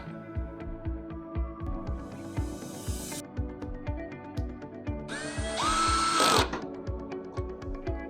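A powered driver briefly whirs for about a second as a screw goes back in to secure an LED board in a light fixture, rising above steady background music.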